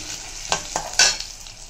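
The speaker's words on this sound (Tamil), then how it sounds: "எண்ணெய் காஞ்சிடுத்து இப்போ நம்ம எடுத்து வச்சுருக்கிற இந்த சாமான்லாம் வறுத்து எடுத்துக்கலாம்." Spices and ingredients are roasted in hot oil for an eggplant tamarind kootu, with a soft crackling sizzle and three or four sharp stirring clinks from a spatula against the pan.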